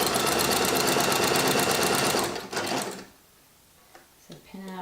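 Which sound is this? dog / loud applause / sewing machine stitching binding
sewing machine stitching binding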